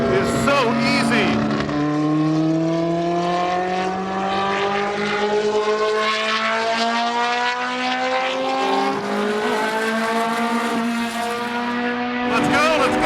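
A formula racing car's engine howls at speed, loud and continuous, its pitch climbing repeatedly through the gears, with a voice faintly mixed in.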